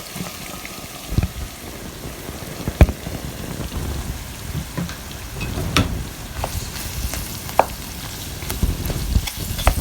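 Onions and eggplant fry in a sauce with a soft, crackling bubble, broken by scattered sharp clicks and knocks of a utensil against the pot, moderately close and steady.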